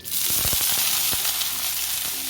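Water sprinkled onto a hot ghee-greased non-stick tawa bursts into a loud, close sizzle with sharp crackling pops scattered across a continuous hiss, no voices.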